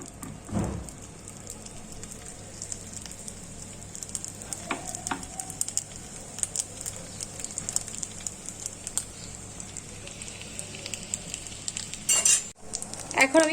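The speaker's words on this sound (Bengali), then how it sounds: "এখন আমি প্যাটিগুলোকে ভেজে নিচ্ছি।" Chicken burger patties frying in hot oil on a tawa, with a continuous crackling sizzle like light rain, occasional utensil clinks and a sharper clatter near the end, heard close with no talking.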